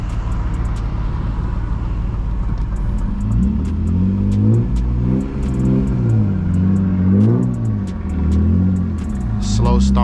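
Manual BMW E36 pulling away from a traffic light in first gear, the engine rumble swelling in wavering revs with a shift dip, loud from inside the cabin as the driver talks over it.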